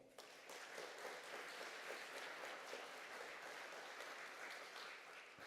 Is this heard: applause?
yes